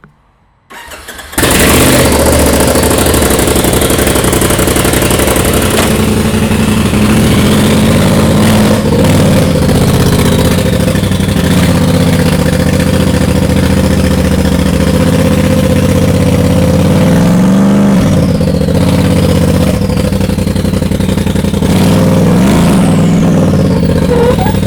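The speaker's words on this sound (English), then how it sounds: "So I'm gonna pull the RZR out now. It's got no exhaust on it, straight turbo." A Polaris RZR with a straight turbo and no exhaust fitted starts up, then idles loud and close for a long, continuous stretch with a raw, rumbling drone and occasional revving swells.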